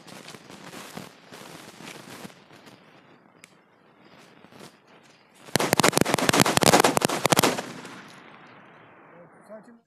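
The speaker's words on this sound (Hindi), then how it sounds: "जोरदार चली है पटाखों की लड़ी, अब तक की सबसे बेस्ट लड़ी है जिसने इतनी तेज़ आवाज़ की है" A string of Diwali firecrackers bursts into a rapid, loud crackling volley for a few seconds after quieter popping, then fades.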